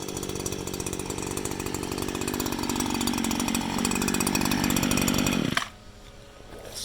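A Stihl FS 56 RC string trimmer runs at high revs while trimming, a loud, buzzy two-stroke whine held steady for several seconds, then the throttle drops abruptly to a lower idle.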